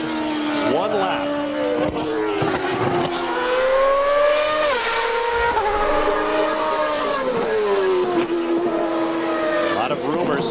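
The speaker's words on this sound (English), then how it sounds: "While he makes his way around, Michael Andretti has gone to the top of the time charts" CART race cars lap Mid-Ohio during qualifying, their high engine whine sweeping up and down through gear changes as they pass at a distance, beneath steady commentary from a broadcaster.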